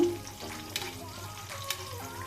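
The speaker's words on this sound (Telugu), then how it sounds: "ఇలా ఫిష్ మీద కూడా వేడి ఆయిల్ వేయాలి. అప్పుడు 2 వైపులు ఫ్రై అవుతుంది." Fish fries in hot oil as more hot oil is spooned over the top, giving a steady close sizzle and crackle with a few small spattering pops.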